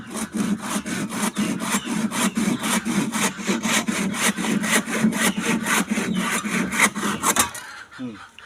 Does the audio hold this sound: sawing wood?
yes